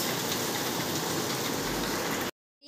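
Steady, dense rain falls continuously for a little over two seconds, close and even in loudness, ending in an abrupt cut to silence before a faint return.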